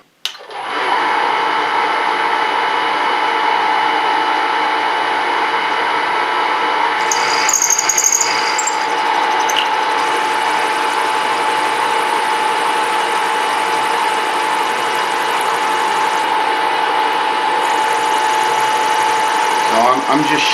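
A milling machine plunges a cutter into a machinist vise part and shaves it, a loud, steady mechanical whine and grind held throughout with a brief shift in pitch partway, with no one talking.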